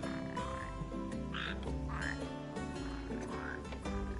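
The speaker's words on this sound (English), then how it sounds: "Only the red frog native to Ulster suits my needs." Red frogs croak steadily near a slough in Final Fantasy 15, repeated low throaty calls layered over game music and ambience.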